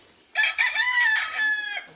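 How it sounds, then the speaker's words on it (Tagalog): A rooster crows once in a long, drawn-out call with a rising start and a sustained, slightly wavering tail, close and clear against quiet rural surroundings. "Manok."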